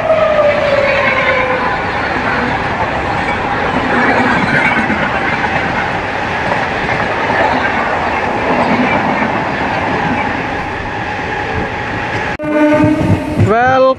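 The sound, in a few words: Vikramasimhapuri Amaravati Express train passing at station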